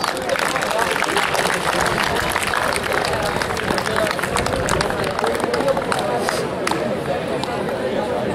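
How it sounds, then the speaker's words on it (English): An audience at a school investiture ceremony breaks into sustained, dense applause, a steady wash of many hands clapping at even loudness throughout, with crowd murmur mixed in. "Give them all a big round of applause."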